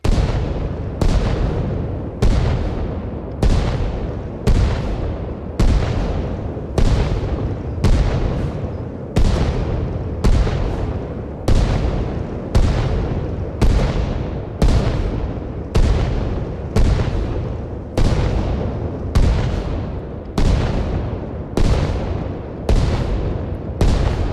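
Mortar shells explode one after another in Arma Reforger at a steady pace, about every second, each blast loud and rumbling before the next hits.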